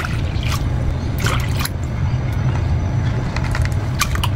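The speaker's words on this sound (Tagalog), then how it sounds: "So doon na lang din natin ilalagay yung malamig na tubig." Cold water is poured into a bowl holding leftover marinade sauce, giving a steady splashing trickle with a few sharper splashes, heard close and alone.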